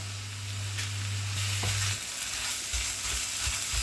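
Minced meat fries in a skillet with carrots under a steady loud sizzle, broken by a few scraping stirs of a utensil across the pan.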